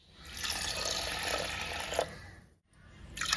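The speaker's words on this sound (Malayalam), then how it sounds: "ഇനി ആവശ്യമായ വെള്ളം ചേർക്കാം" Water poured into lentils in a pressure cooker, a close, steady splashing gush that stops briefly, then resumes with a short trickle.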